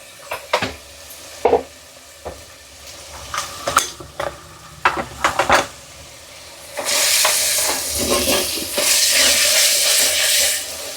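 A spoon scrapes and clanks against a pan in irregular sharp knocks while egg puffs cook with turmeric, then a loud, steady frying sizzle swells up and holds to the end.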